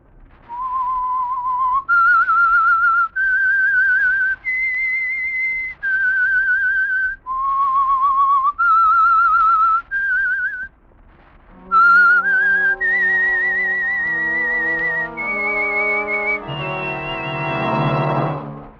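A lone whistler carries the signal tune that opens the Signal Oil radio mystery program The Whistler, a clear, melodic sequence of sustained notes, loud and close, followed by a fuller instrumental passage.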